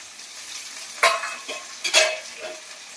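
Ground cumin, dried chilli powder, ginger and garlic stir-fried in a pan as a base for a Bengali fish curry, with a steady sizzle and two sharper scraping stirs of the spoon, no talking.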